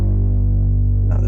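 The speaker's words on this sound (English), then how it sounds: "but I've distorted the bass here." Heavily distorted bass in a sad song, a loud sustained low drone with steady throbbing pulses, joined near the end by brighter higher tones.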